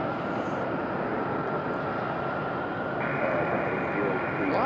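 A Delta airliner departing Raleigh-Durham airport produces a steady, broad jet roar that holds level throughout, with a rising whine entering near the end as the aircraft passes close.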